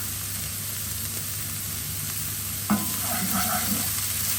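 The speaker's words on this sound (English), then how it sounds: "I'm going to add my garlic and my chili" Garlic and chili hit a hot pan with a sudden sizzle partway through, crackling steadily on top of a low background hum.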